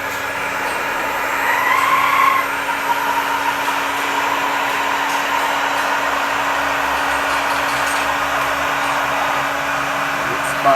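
A 2000-watt Total heat gun blows hot air onto a pipe, giving a steady, loud whooshing hum with a constant motor whine that runs unbroken throughout, briefly louder near the start.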